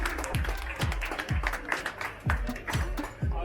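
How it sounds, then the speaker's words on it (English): A small audience at an International Women's Day celebration claps for a prize winner. The claps are uneven and fairly sparse, close and moderately loud. "A big applause for her."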